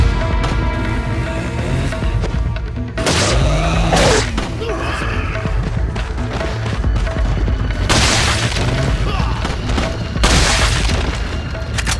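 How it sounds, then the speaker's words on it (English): Handgun shots in Resident Evil 4 Separate Ways, several loud sharp reports spaced a few seconds apart amid dense, booming game action noise. "I'm gonna have to keep on using my handgun."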